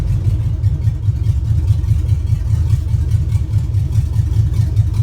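A junkyard 5.3 V8 swapped into a 1955 Buick Special runs steadily at a low, even idle, with a throbbing low rumble and regular firing pulses, close and loud with no talking.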